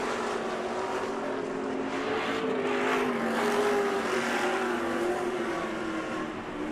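Sportsman-class off-road race trucks run at full throttle around the Crandon track during the TORC spring round, a sustained engine roar heard from a distance with slowly shifting pitch and no talk.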